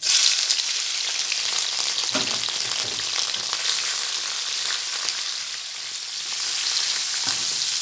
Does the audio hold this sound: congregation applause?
no